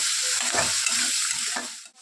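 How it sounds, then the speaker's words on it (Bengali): Taro stolons stirred and fried in a pan with pickle oil and salt, a steady broadband sizzle with soft scraping strokes of the spatula, close and continuous for about two seconds with no voices. "এবার লতিটাকে ভালো করে নেড়ে নেব, ভালো করে ভাজা করে নেব।"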